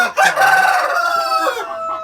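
An Indian breed rooster crows once up close and loudly, a single drawn-out cock-a-doodle-doo with a rising start and a long wavering tail.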